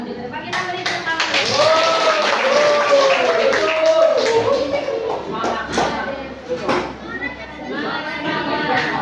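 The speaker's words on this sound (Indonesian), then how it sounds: "Kita beri tepuk tangan." A school classroom in an eleventh-grade physics lesson: students clap together for a group coming forward to present. The steady clapping lasts several seconds with voices and shuffling around it, then fades.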